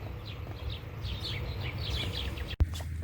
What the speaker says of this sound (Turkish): Kuş seslerinin güzelliği.